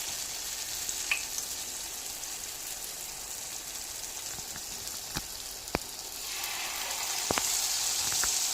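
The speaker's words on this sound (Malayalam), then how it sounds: "ഇനി ഇതിലേക്ക് നമ്മൾ ബനാന ഡിപ്പ് ചെയ്ത് എടുത്ത് ഇട്ടുകൊണ്ടിരിക്കുകയാണ്." Banana slices dipped in batter fry in hot oil with a steady, dense sizzle close by, broken by a few sharp pops and crackles and swelling slightly louder toward the end, with no talking.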